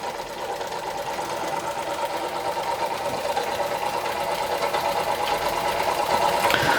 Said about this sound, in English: what a lovely engine. The Germans really did know how to make model steam engines.